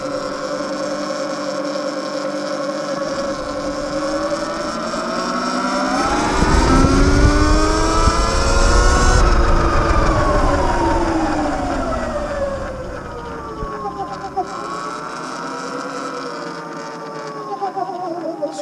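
A Sur Ron Light Bee electric bike gives off a steady electric motor whine that climbs and falls in pitch as it speeds up and slows down. A heavier rumbling surge comes through the middle.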